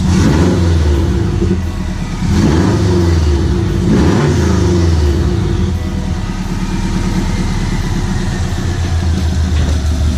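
A warm Subaru WRX STI engine, on its first start after a build, revs loudly and repeatedly, rising and falling in pitch over a steady rumble, close by with no talking.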